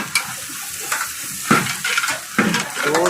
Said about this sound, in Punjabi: ਇੰਨੇ ਪੇਸਟ ਪਾ ਕੇ ਇਹਨਾਂ ਨੂੰ ਚੰਗੀ ਤਰ੍ਹਾਂ ਕਰਾਂਗੇ ਜੀ ਮਿਕਸ